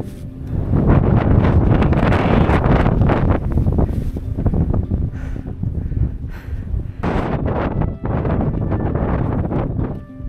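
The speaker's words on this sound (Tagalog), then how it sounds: "Lakas ang hangin dito." Strong wind rushes and buffets loudly on the summit trail of Mt Apo. Heavy gusts blast the microphone almost without pause and ease off briefly in the middle.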